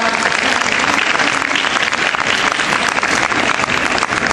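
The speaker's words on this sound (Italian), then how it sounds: "Grande applauso ad Alessia" A crowd at a regional award ceremony claps loudly and continuously for a winning girl, Alessia, a dense, even roar of hands that holds steady throughout without a break.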